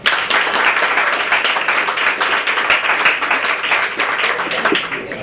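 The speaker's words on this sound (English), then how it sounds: "Please, applause if you believe Jennifer." A story slam audience bursts into lively applause, dense hand clapping from a crowd sustained evenly for several seconds, close and loud.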